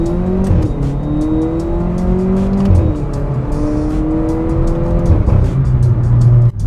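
A tuned VW Polo turbo on a stage 2 tune with a cold air intake accelerates hard from a rolling start, its loud engine note climbing steadily through successive gear changes, heard from close inside the car.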